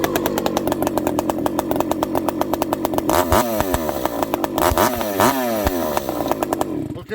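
A Husqvarna 288xp chainsaw with a pipe exhaust runs loud and close, revving in rapid throttle blips with a raspy, crackling exhaust note, then holding a long high-rpm scream in the middle before dropping back.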